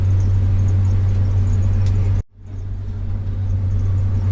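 A combine harvester cuts and loads soybeans with a loud, steady low-pitched engine drone that drops out abruptly for a moment, then builds back to full strength.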